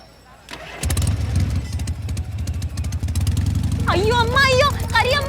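A motorbike engine fires up via its start button: a click and brief crank, then a steady low idle rumble that persists, with a person speaking over it near the end.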